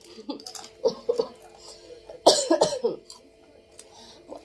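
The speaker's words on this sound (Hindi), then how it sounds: "खांसी बहुत है" Several rough coughs in bursts, a few light ones then a louder cluster, close to the listener with brief pauses between.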